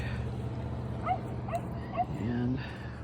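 Dogs at a small-dog park in Quartzsite, Arizona give a few short yips and a drawn-out whimper against a steady outdoor hum, with a person talking over them.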